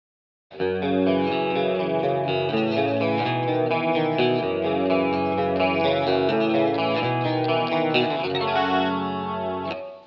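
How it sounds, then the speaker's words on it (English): An electric guitar through a Line 6 Helix with chorus and compressor plays sustained chords and notes with a compressed, even tone and a shimmering effect, steady and up close. "let's bring that compressor in"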